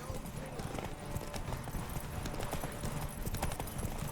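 Horse hooves clip-clop steadily in The Witcher 3 over a busy, dense game soundscape, with a voice speaking on top of the constant rhythmic hoofbeats.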